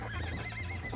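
A horse in the video game Red Dead Redemption lets out a short, close whinny with a wavering, rising and falling pitch, over a low in-game background hum.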